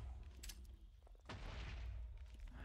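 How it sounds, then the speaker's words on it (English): Grenade blast from the Techguns mod in Minecraft 1.12.2: a sudden broad burst at mid-clip swells into a sustained, loud rumbling roar that fills the rest of the clip, preceded by a couple of brief clicks. "Next we have our grenade."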